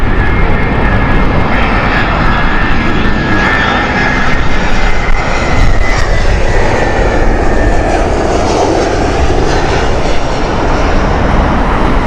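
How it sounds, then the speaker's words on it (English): An old 2001-built airliner roars loudly and steadily at Heathrow Airport, a continuous close engine drone with a whining tone through it and no talking. "Charlie Victor Charlie is quite an old aircraft. It's 22 years old, 2001 this one."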